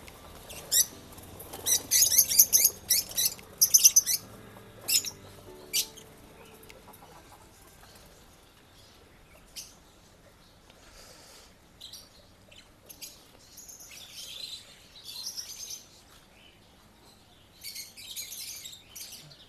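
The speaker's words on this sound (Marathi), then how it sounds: "इथे छोटेसे पक्षी पण आहेत." Small birds chirp in short, bright bursts around a resort car park, busiest early on, then sparser, fainter calls continue over quiet background.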